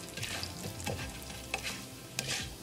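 Cumin, fenugreek and mustard seeds sputter and crackle in hot oil, a steady close sizzle broken by sharp pops and a spoon stirring through the pan.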